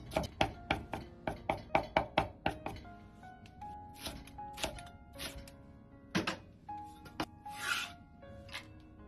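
A cleaver rapidly chops smashed ginger and garlic on a wooden board: a fast run of sharp, close knocks, then scattered slower chops and scraping sounds, with no voices.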